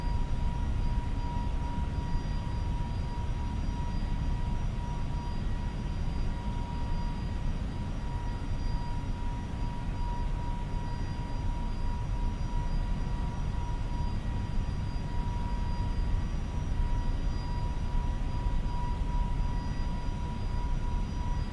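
Steady broadband drone of Airbus A321neo jet engines in cruise, simulated in Microsoft Flight Simulator on a Miami to Cancun flight, a continuous even roar with a faint tonal whine, heard alone with no talking.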